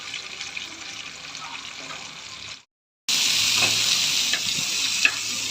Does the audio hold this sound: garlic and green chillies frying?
yes